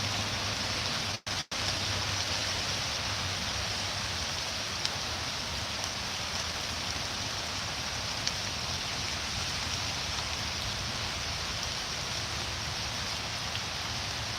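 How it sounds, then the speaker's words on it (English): Cold rain falls steadily, a dense, loud, even hiss of drops on surfaces lasting throughout, broken only by a brief dropout near the start. "It's a cold rain too."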